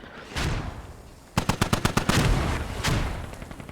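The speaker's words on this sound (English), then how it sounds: "wow, look at this mortar insanity" Mortar explosions and gunfire in a multiplayer military video game: heavy booms and a rapid burst of shots, loud and close, with no talking.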